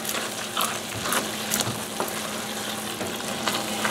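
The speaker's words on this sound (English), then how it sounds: "I'm going to simmer this part of the masala for about 5 minutes more" Masala seasoned with black pepper and green chilies for paneer butter masala simmers and fries in a pan, a steady dense close sizzle with occasional stirring clicks, no talk.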